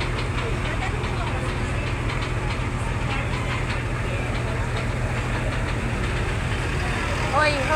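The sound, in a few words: fire truck engine idling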